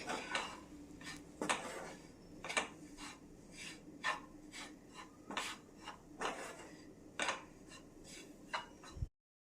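Ground nuts being stirred into a mixture in a pan while making sweet wheat balls, with repeated faint scraping and clinking strokes of a spoon against the pan in an irregular rhythm.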